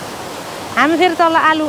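A swollen mountain stream at Labang rushes with a steady, broadband roar close by, while a voice speaks briefly over it.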